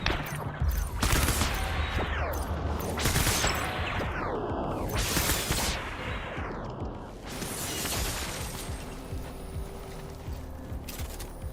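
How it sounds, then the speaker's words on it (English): Repeated gunfire bursts from blood bullets in the video game Death Stranding, with mechanical clicks and whooshes, loud and continuous across the clip with no talk. "Am I shooting them with blood bullets right now?"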